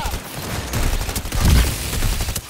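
A heavy machine gun in Cyberpunk 2077, firing slow electric-damage rounds as a rapid, rumbling fusillade of thuddy shots with a loud low-end burst near the middle, heard alone without talk.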